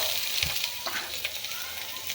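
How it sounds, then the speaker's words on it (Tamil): Onions fry in a small amount of oil, giving a steady close sizzle with a few soft stirring scrapes. "வெங்காயத்தை போட்டாச்சு."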